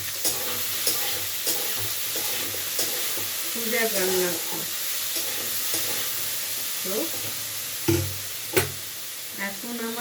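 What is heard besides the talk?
bitter gourd, eggplant and potato frying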